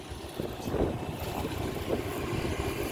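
Strong dry wind buffeting an outdoor microphone in a Thai rice field where a dump truck and rice harvester are working, a continuous rough low rumble with gusty swells and no speech.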